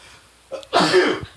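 A person sneezes at the Loveless Cafe in Nashville: a short sharp breath in, then one loud, close, breathy burst that trails off quickly, heard on its own.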